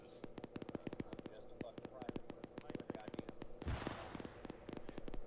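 Mortar rounds pounding an enemy mortar pit in a military video game, a rapid run of sharp explosive bangs with a heavier thump midway, while voices talk over the barrage.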